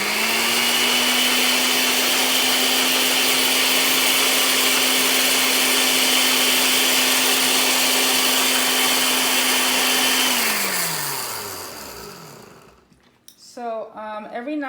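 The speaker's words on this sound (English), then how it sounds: "And let's blend again." A kitchen blender whirs steadily as it blends cauliflower for fufu, a loud sustained motor drone that holds for about ten seconds, then winds down and stops, followed by someone speaking.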